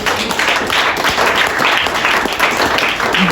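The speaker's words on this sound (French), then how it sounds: "Est-ce qu'on peut acclamer pour Jésus?" A church congregation at a Sunday service applauds for Jesus, steady dense clapping from many hands, loud and continuous throughout with faint voices mixed in.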